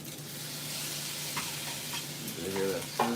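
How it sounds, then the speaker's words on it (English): Fried rice sizzles and crackles steadily in a hot pan as the rest of the sauce is added, with stirring scrapes and a brief flare of stronger sizzle near the end, heard up close with no talking. "You hear that sizzle?"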